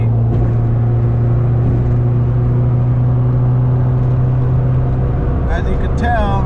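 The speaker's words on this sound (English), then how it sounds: "I'm doing about 80, and the car is still quiet." Car fitted with a K-tuned muffler cruising at about 80, a loud, steady low engine drone and road hum inside the cabin, with a few brief higher tones near the end.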